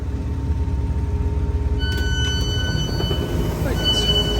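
A train pulls into Southport station: a loud, close low rumble with rising metallic squeals and tonal whines from carriages sharing bogies, continuing for several seconds.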